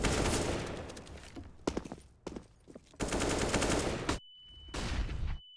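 Rapid gunfire from a professional Counter-Strike match on the Mirage map, FURIA versus Natus Vincere at DreamHack Masters Spring 2021, comes as dense, loud bursts broken by short pauses, with a thin tone at the end.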